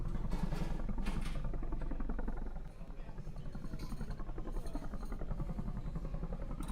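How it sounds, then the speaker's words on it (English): Helicopter on a rooftop in a video game, a steady rhythmic rotor chop droning continuously with a slight drop in level midway, voices talking faintly over it. "Is that a helicopter on the roof?"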